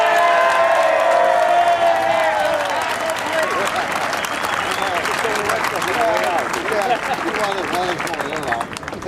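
A large outdoor crowd at a Tea Party rally cheers, whoops and applauds for police officers, a loud, dense roar of clapping and voices that fills the whole stretch and slowly tapers toward the end.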